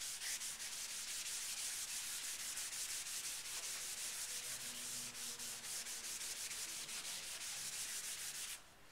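Charcoal is rubbed across paper on a potato still life drawing, a close, continuous scratchy swishing in quick rhythmic strokes that stops abruptly at the end, with no talking.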